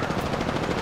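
Rapid automatic gunfire in the video game Apex Legends, a dense, continuous burst of shots filling the moment, loud and close with no talking over it.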